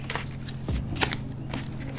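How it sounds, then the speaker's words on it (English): A Tarot deck being shuffled by hand up close, quiet papery riffles and soft slaps of cards in several short bursts. "Shuffle these guys up and see."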